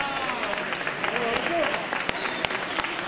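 Audience applause at a poultry show award ceremony in Albelda de Iregua, a steady wash of many hands clapping from start to finish with no speech over it.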